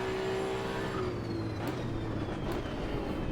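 A Ferrari race car in Assetto Corsa EVO drones steadily with a continuous engine tone and turbo whine. A couple of brief sharper bursts come through the constant roar.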